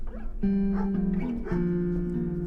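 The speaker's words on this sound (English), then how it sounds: "There's a dog in the background again." A dog in the background gives sustained, wavering whimpers and whines with shifting pitch over a low hum, and the sound continues throughout at moderate volume.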